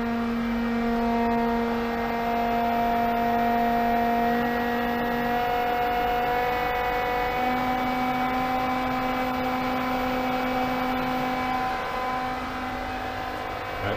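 A Pentair SuperFlo variable speed pool pump running at 3,000 RPM on dual suction lines gives a steady, loud motor whine with a constant tonal hum, unbroken for the whole stretch with no voices.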